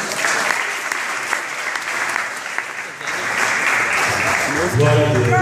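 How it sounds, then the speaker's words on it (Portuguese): A church congregation applauds, a dense, loud patter of clapping hands that holds steady throughout, with voices joining in toward the end. "Aplauda a Jesus."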